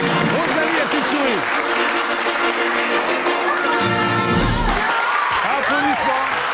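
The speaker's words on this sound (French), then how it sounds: "je vous demande d'applaudir à tout rompre, de faire un véritable triomphe à Rosalie et Eric" A TV studio audience applauds and cheers for guests on a French daytime show; crowded clapping runs under loud voices and tonal, music-like sounds, with everything close and full throughout.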